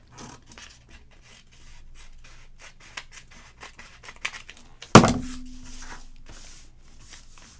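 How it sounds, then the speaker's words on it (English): Scissors cutting paper for a mini album slit pocket, with steady close snips and rustling, then one sharp loud cut or thump followed by a brief hum. "I'm going to cut a little bit of this off"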